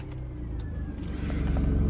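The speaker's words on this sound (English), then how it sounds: "I need to sort the exhaust leak on this thing as well because it's horrendous" A BMW E36 Touring with a leaking exhaust drives close by, its low rumbling engine note swelling steadily as it accelerates over two seconds, with faint mechanical creaks on top.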